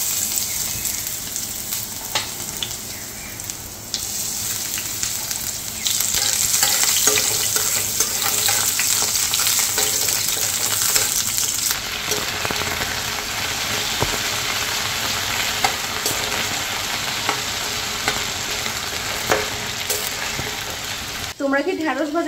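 Okra sizzles steadily in a pan with garlic, a dense continuous frying hiss with occasional scraping and stirring clicks, close and fairly loud throughout.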